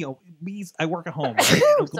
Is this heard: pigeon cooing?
no